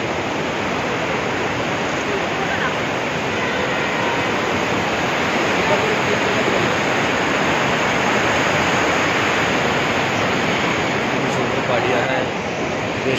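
River water at Manikaran in Himachal rushes in a steady, loud, broadband roar that fills the whole clip without pause.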